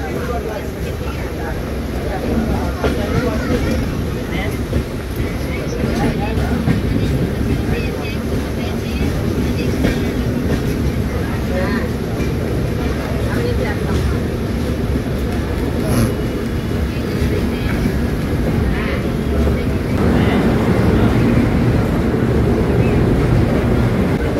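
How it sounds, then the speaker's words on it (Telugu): The Tirupati–Kolhapur Haripriya Express runs with a continuous loud, dense rumble and rattle close by, holding steady throughout, with voices mixed faintly into the din. "తిరుపతి కోలాపూర్ హరిప్రియ ఎక్స్ప్రెస్."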